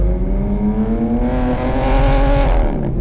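A BMW M2 with the S58 engine and an aftermarket exhaust revs hard, its loud, raspy note climbing steadily in pitch for about two seconds before dropping off, heard close and without voices.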